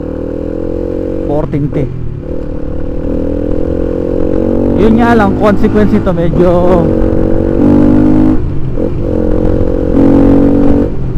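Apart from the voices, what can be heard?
Rusi Flame 150 motorcycle engine revving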